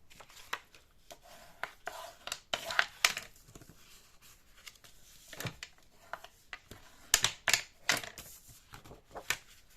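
Paper being creased and folded for a baby-boy birth scrapbook album: sharp, close rustles and snapping crease strokes in irregular bursts over a quiet background, with no speech.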